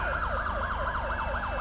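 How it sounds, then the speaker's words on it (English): A police car siren wails in GTA 5 on a city patrol, a rapid rising-and-falling yelp repeating about every quarter second, loud and steady with a low engine rumble beneath. "my siren's still going off"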